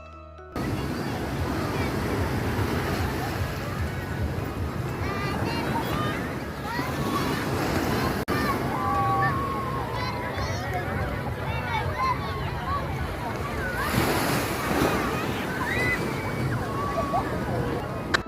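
Ocean surf washes steadily onto a beach decorated colourfully for New Year, a continuous broadband roar with gusting wind on the microphone and faint crowd babble in the background.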